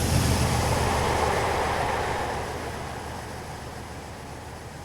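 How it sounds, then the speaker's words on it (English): A train hauled by a Class 56 diesel locomotive passes, a loud broadband rumble and rushing roar that is strongest at first and eases off steadily as it moves away, with no voices. "the train passes Sileby on the 5 Zulu 57 Old Dalby to Middleton AVR"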